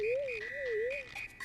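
Frog Sage in the Super Mario RPG video game gives a warbling electronic croak, a wavering tone that rises and falls three times, then short chirps.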